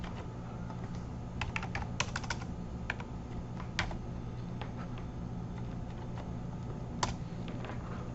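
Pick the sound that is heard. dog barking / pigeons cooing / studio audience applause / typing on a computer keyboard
typing on a computer keyboard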